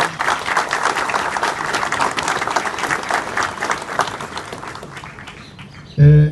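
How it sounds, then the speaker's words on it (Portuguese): Sustained applause from a crowd at a civic ceremony marking Botucatu's anniversary, steady clapping for about six seconds before a voice cuts in loudly at the end. "Uma salva de palmas para o André aqui."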